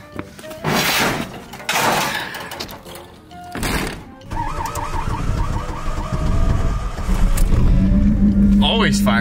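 Chevy S10 pickup with its 2.2 engine cranking in bursts and then catching, settling into a loud rough idle, with a voice heard over the start.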